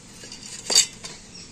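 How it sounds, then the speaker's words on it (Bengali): Sour yogurt is spooned into mango pulp in a bowl, giving a quiet session with one brief spoon clink against the bowl near the middle, followed by a softer tap. "তো টক দইটা আমি এখন আমের পাল্পের মধ্যে দিয়ে দিচ্ছি।"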